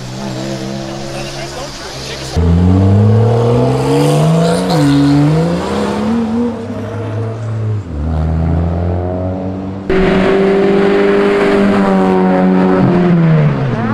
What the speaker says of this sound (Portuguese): ele passou uns 100 metros cortando de giro